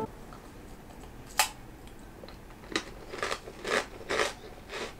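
Crunchy potato-shaped Japanese snack being bitten and chewed, with one sharp crunch followed by a cluster of close, crisp crunches.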